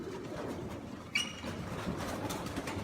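Molting pigeons coo in a loft, soft low murmuring calls under a rustling background with a brief sharp click partway through.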